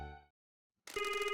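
A telephone rings in a video game, a bright electronic trilling ring starting after a short silence that follows a fading musical tone, loud and steady with no talking.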